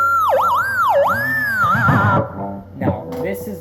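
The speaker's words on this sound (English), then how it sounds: "So basically he hits a crazy harmonic, he gets the squeal sound going," Electric guitar pinch harmonic squeals from a solo, high and piercing with wild pitch bends and dives, played loud and close before the notes give way to a lower, scratchier tail.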